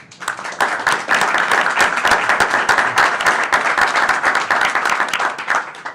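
An audience at a national security roundtable bursts into a sustained round of applause, many sharp overlapping claps loud and close, steady from start to finish with no talk.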